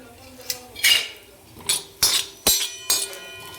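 Grated coconut roasting in a pan with a little oil, heard as a run of sharp metallic clinks and scrapes from a spatula against the pan, about six distinct strikes at an uneven pace.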